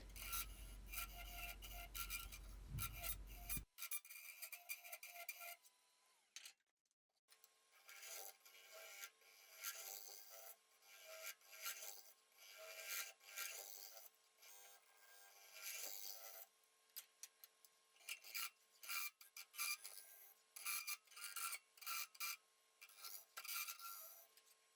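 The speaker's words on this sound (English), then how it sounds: "Starting with the sanding of the inside with 80 grit" Steady rasping and rubbing of 80-grit sandpaper against the inside of a wood-and-resin vase on a lathe, continuous with brief pauses and bursts, close and fairly loud, with no talking.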